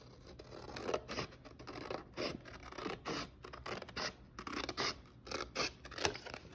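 Scissors snip paper for an agamograph in a quiet room, making a steady series of close, soft crisp cuts with short rubbing pauses between them.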